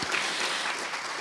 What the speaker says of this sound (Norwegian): Vi kan ikke bare gi en bitteliten klapp her?